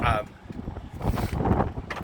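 Wind gusts buffet the microphone outdoors in New Mexico in a low, rumbling roar that swells and eases, with faint voice-like sounds mixed in.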